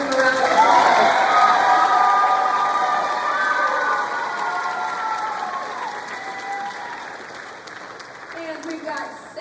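An audience at a 2024 high school spring concert breaks into applause, a dense, loud wash of clapping that gradually thins and fades, with some vocal sounds and shouts mixed in.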